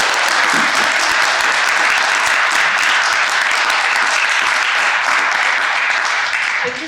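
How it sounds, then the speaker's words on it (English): An audience claps loudly and continuously for a group of student climate activists at an evening talk, a dense and even burst that lasts the whole clip with no speech over it. "And if everyone could just give a round of applause."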